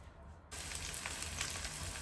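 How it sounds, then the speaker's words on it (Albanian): Onions frying in three or four tablespoons of oil over medium heat while being stirred, a dense steady sizzle starting abruptly and holding on, fairly quiet and close. "në temperaturë mesatare i fërgojmë qepët duke i përzier vazhdimisht derisa të zbuten"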